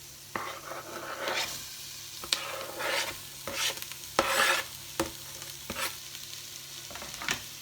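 Carrots go into a pot of warmed spices for a red lentil, chickpea and vegetable soup, then a spoon stirs and scrapes in repeated short strokes over a soft sizzle, close and fairly quiet, with no talking.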